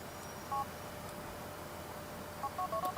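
A phone number dialed in the video game GTA IV: a short DTMF keypad tone, a pause, then a quick run of several tones in close succession, clean and moderately quiet.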